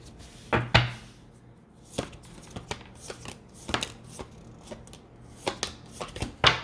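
Tarot cards shuffled and drawn by hand: a run of crisp, irregular slaps and riffles, with several sharper snaps between softer rustles, close and fairly quiet with no talking.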